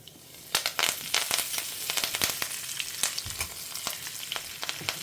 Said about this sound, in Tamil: கடுகு பொரிய ஆரம்பிச்சுடுத்து பாருங்க